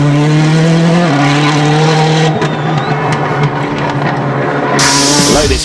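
A WRC rally car driven by Sebastien Loeb runs a stage of the 2007 Rally Ireland, its engine loud and close with revving pitch that rises and drops through gear changes, a tyre squeal and a sudden burst of hiss near the end.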